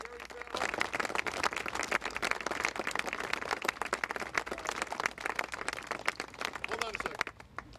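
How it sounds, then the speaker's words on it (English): A crowd claps loudly and continuously at an outdoor cemetery reenactment, a dense sustained round of applause that fades out at the end. "round of applause"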